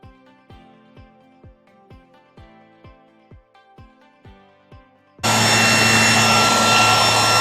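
A Redroad V17 cordless vacuum with its rotating brush switches on after several seconds of light tapping and handling, then runs as a loud, steady close-up whir with a high whine.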